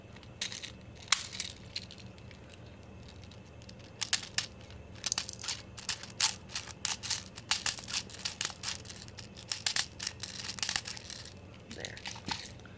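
Airsoft BBs, 0.25 gram, being loaded into an Elite Force 1911A1 pistol magazine with a speed loader, heard as a dense run of small plastic rattles, clicks and crackles that builds in the middle and continues, close and fairly quiet.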